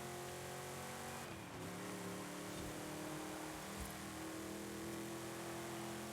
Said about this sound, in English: This is a very high revving engine